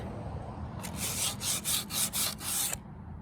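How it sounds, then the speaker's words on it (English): Sandpaper rubbed over a painted wooden porch sign board in about six quick back-and-forth strokes, each a close, brushy scrape with brief pauses between passes, set against a quiet background. "I want to show you a little bit of the way that I'm sanding over the whole board."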